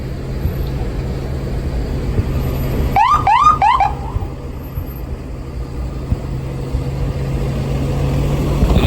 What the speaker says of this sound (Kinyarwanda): Ambulance iri guhita aka kanya, ishobora kuba ifite umuntu ntawamenya.